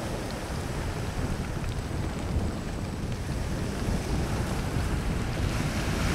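Strong wind and crashing waves roar continuously around an open boat on a stormy sea, a dense, steady, close rush with no voices.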